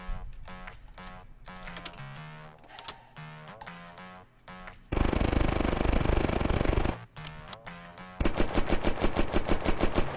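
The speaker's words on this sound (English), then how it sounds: "If we shoot in the front, we still do visible damage." Bursts of gunfire in the video game Unturned aimed at a giant battleship, the HMS Iron Duke, loud and rapid, with dense sustained volleys and a stretch of fast repeating shots over game music.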